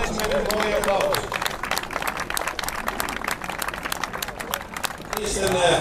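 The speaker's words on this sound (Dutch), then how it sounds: "begeleid ze met een mooie applaus" An audience claps and murmurs at the festive opening of a skating track in Heemskerk, with scattered applause blended into crowd chatter and a nearby voice speaking over it.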